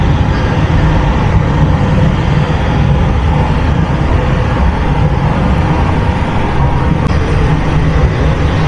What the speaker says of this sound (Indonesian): Nah, ini kan kereta masuk di jalur 2 ya.